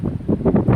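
Strong coastal wind batters an outdoor microphone near the shore, loud gusting buffets that surge and roll in uneven bursts, close and roaring, with no speech.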